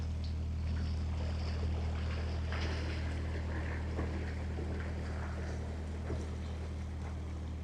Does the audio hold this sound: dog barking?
no